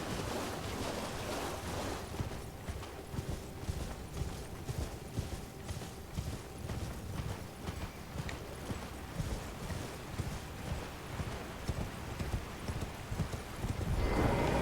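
Horse hooves in the video game Elden Ring, a steady run of rhythmic clip-clops close up with an occasional whinny, playing continuously over a faint background wash.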